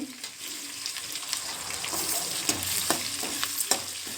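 Curry leaves hitting hot oil in a pan while cooking capsicum chitranna, a soft continuous sizzle with light stirring clicks and scrapes, fairly quiet and close.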